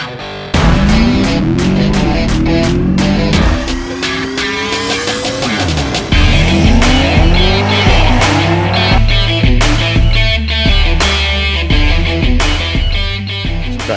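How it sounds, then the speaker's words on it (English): A 1000hp car with a Kong Gen 3 lid runs on a dyno, its engine screaming through repeated rising pulls with crackling bangs, loud and close, with no talking. "Cars on the dyno."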